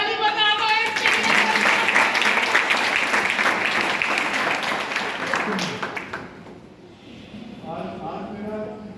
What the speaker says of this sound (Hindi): अरे ताली बजा दो इसके लिए।